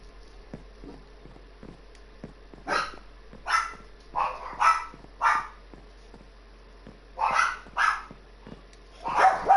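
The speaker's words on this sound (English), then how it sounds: "Dog across the hall is talking." A dog across the hall barks in an apartment building, a series of muffled, mid-distance yaps in short clusters, with faint ticking and clicking nearby between them.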